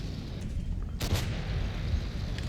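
A tank cannon shot in World of Tanks cracks out once, a sharp loud blast with a brief echoing tail over a constant low engine rumble, no speech over it.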